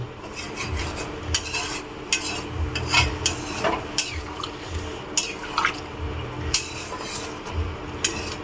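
Water trickles and drips into a pan of simmering dhaba-style chicken curry, with repeated light stirring scrapes and soft bubbling close by, no talking.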